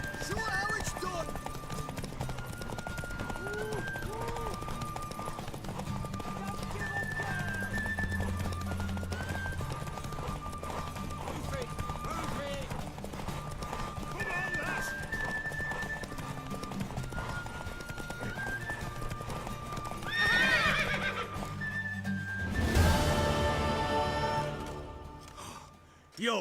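Horse hooves clip-clopping at a gallop during a horse race in The Witcher 3, a steady rhythmic beat under game music and character voices, with a short burst near the end that may be a neigh.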